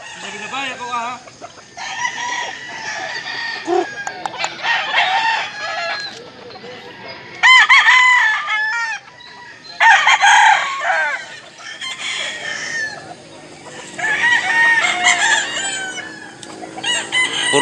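A gamecock rooster from a possum bloodline crows loudly and clucks close by in several bursts separated by short pauses.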